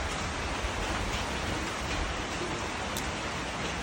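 Steady rain falls in a dense, even hiss with no pauses, close and constant throughout.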